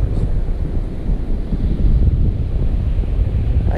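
Wind buffeting a microphone over steady ocean surf on a New Jersey beach, a continuous low roar with no clear breaks and no voices.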